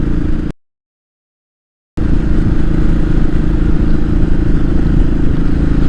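Royal Enfield 500 motorcycle engine running steadily while riding, a close, continuous low rumble with wind noise and a brief dropout early on.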